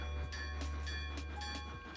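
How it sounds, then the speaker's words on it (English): A sea train running over water in One Piece anime approaches with a loud continuous rumble and droning, horn-like tones, with faint rhythmic clatter throughout and no talk. "Is it a train coming?"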